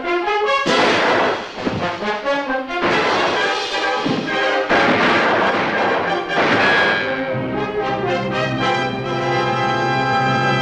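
Eighty cowboys firing on a flimsy shack, a loud, dense barrage of gunfire and crashing impacts that fills the clip and fades into ringing echoes at the end.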